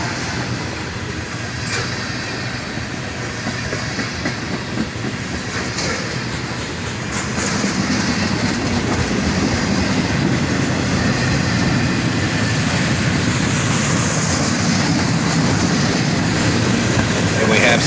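A CSX freight train rolls past behind an SD40-2 locomotive, originally built as a straight SD40 for the C&O, pulling hopper cars that include Chicago Northwestern hoppers. A continuous heavy rumble with clickety-clack wheel beats swells louder partway through and stays close.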